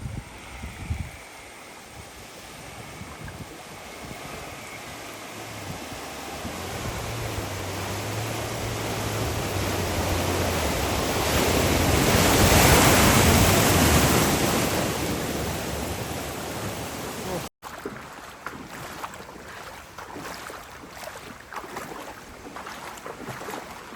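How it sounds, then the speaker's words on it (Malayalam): A flooded river runs over its banks in a continuous rushing roar that swells louder midway, then drops to a steadier flow after an abrupt cut. "പുഴ അങ്ങനെ നിറഞ്ഞ് കവിഞ്ഞൊക്കെ ഇങ്ങനെ ഒഴുകി ഒഴുകിതാ ആരാൻ്റെ പറമ്പിക്കൊക്കെ ആയിട്ടോ"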